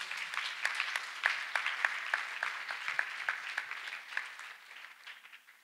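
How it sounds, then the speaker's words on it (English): Church service audience clapping after a testimony, a steady patter of many hands at moderate distance, fading toward the end, with no talk over it. "let us once again clap for Master Jesus"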